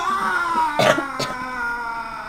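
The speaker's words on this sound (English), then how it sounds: "made me cough" A couple of short, harsh coughs break through a background of murmuring voices, close and moderately loud.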